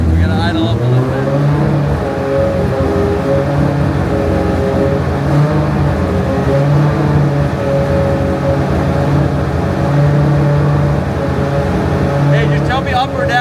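An FD car's engine idling up, a steady low rumble with a slight rise in revs held for several seconds, close by, with people talking over it.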